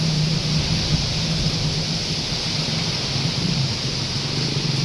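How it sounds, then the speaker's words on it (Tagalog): A strong storm wind roars continuously around a house whose neighbors' metal roofing sheets are being torn loose, a dense steady rushing with a low rumbling hum and no pauses. "Yung hangin naman ang malakas."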